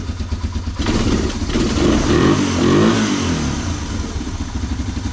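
Long-abandoned Honda Big Red three-wheeler catching and firing up, its small engine clattering into a rough idle and then revving up and settling, close and loud.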